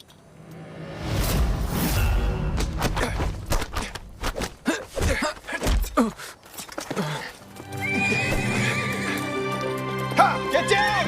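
Horse neighs and whinnies loudly, then hooves clatter past at speed amid whooshing movement, with louder action sounds and a brief voice near the end, in a period fantasy drama's chase scene.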